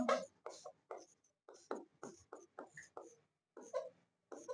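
Pen or chalk scratching out a Class 10 maths solution on surface areas and volumes, in short close bursts of strokes separated by brief pauses, with no talking.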